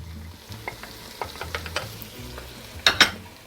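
Carrots sizzling in a pan with softened onions while being stirred, a low frying hiss under repeated scraping taps, with two louder clatters near the end.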